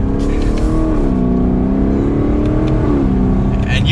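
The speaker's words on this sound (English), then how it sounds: "And you can hear that exhaust with the top down." A 2021 Lexus LC 500 Convertible's exhaust drones loudly while driving with the top down, its steady engine note rising and falling slightly with throttle and masking most other sound.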